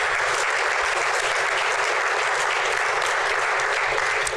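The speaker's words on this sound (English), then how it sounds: "I ask you for a big applause for our 3 panelists" A conference audience gives sustained applause for three panelists, steady dense clapping throughout with no break.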